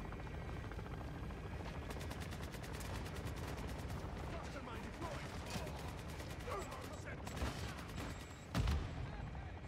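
Rapid machine-gun bursts from a Modern Warfare III match fighting AI opponents, dense repeated fire over several seconds with a helicopter-like drone underneath and one heavier boom near the end.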